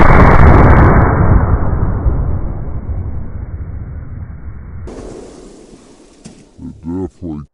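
A single massive blast from an 1887 lever-action rifle chambered in .70 Winchester Express firing a 700-grain bullet, with a deep rumbling tail that fades over several seconds before people begin talking.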